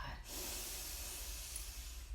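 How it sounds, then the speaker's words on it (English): Rose and carnation scented spray is misted steadily from a bottle, a close, continuous airy hiss that starts after a brief pause and holds for about two seconds. "I even have some sacred sprays today."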